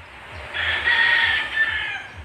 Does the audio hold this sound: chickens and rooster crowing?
yes